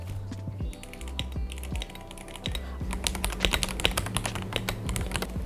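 Typing on a Dareu A87 Pro mechanical keyboard: a close, uneven stream of crisp clacks that is sparse at first and then quickens into dense bursts of keystrokes.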